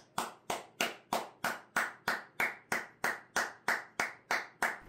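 Hand clapping in a steady, even rhythm, about fourteen crisp claps at a little over two per second, close and alone, used to set off a hexagon LED desk or wall light kit.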